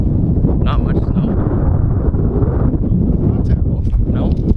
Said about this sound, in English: So it's windy as usual.